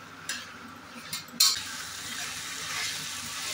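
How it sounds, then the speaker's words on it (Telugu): Ginger garlic paste frying in a pan, a steady close sizzle swelling after about 1.4 seconds, with a few utensil scrapes and clinks from stirring; no talking. "అల్లం వెల్లుల్లి పేస్ట్ కొద్దిగా వేస్తాం. 1 కప్పు. పచ్చి వాసన పోయేంత వరకు బాగా వాడ్చుకోండి."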